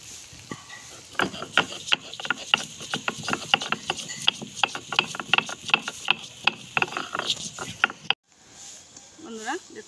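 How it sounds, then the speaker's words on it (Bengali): Whole garam masala of cinnamon, cardamom and cloves being ground, a rapid run of sharp, regular pounding or grinding strikes, close and loud, that stops abruptly near the end. "এখানে আমি গোটা গরম মশলা নিয়েছি, দারচিনি, এলাচ, লবঙ্গ, এটাকে আমি বেটে নেব।"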